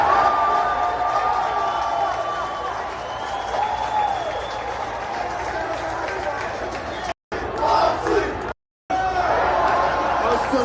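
Wrestling arena crowd cheering and applauding, a broad roar with whistles and shouts rising over it, briefly cut out twice near the end.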